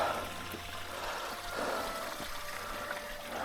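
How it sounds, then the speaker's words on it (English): A small waterfall on Ben Nevis at night pours steadily, giving a continuous, even rush of falling water heard at moderate distance and fairly quiet, with no talking over it. "first wee waterfall"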